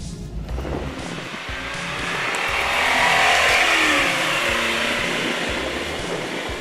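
A 1985 Lamborghini Jalpa driving on a road, its steady engine drone and road roar swelling slightly midway and then holding, with no talking.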